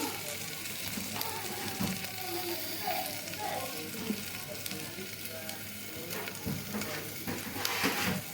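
Red lentils and green chilies fry in a hot pan, giving a soft, steady sizzle with a few faint scrapes and clinks, heard up close at low volume.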